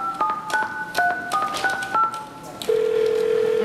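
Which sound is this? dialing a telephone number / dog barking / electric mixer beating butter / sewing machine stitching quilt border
dialing a telephone number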